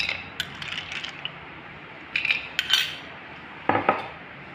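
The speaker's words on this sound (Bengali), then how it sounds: "এবারে আমি বরফের কিউব দেবো।" Ice cubes dropped into a mixer jar holding mango, milk and sugar for a mango milkshake, heard as three short clusters of hard clinking and clattering against the jar, close by with no talk.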